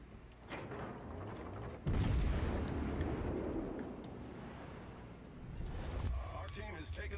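Heavy ship guns boom in World of Warships Legends, one big loud blast leading into a long rumbling tail and a later second volley, with someone talking over the battle.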